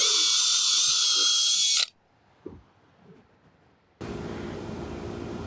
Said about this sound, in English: Before fastening the jamb to your door sill, you'll want to drill 3 locations.